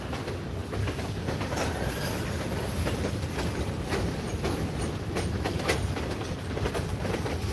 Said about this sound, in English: But we're at least going to watch this outbound train leave.